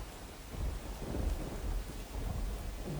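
Continuous heavy rain pours down in the Dwarka area while low thunder rumbles beneath it, steady and fairly quiet throughout.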